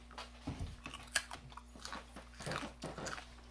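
Someone eating pork cracklins, with a few sharp, close crunches and chewing sounds in short bursts over a quiet indoor hum.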